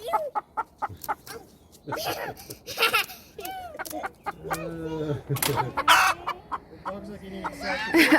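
Chickens cluck and squawk close by in short, uneven bursts, with a few higher cackles mixed in and occasional quiet voices.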